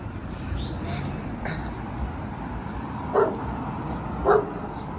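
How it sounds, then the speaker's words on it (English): A dog barks twice on a city street in a Birmingham, Alabama neighborhood, two short distinct woofs a second apart against steady outdoor background noise. "got a dog there"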